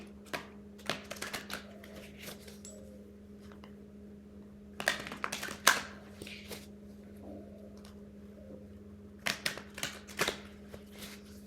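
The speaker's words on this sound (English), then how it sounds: "Let's give these a shuffle" Cards being shuffled in several quick riffling bursts separated by pauses, close and crisp against a quiet background hum.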